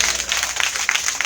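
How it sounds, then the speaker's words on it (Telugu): A church congregation clapping hands during a gospel week prayer meeting, quick rhythmic claps from a group, steady and close, without talk. "కొట్టు చప్పట్లే గట్టిగా"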